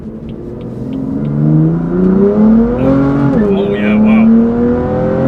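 BMW M4 GTS running a stage 2 tune pulls hard in second gear, its engine note climbing in pitch, briefly dipping at a shift and rising again, loud and close, with an excited voice reacting over it.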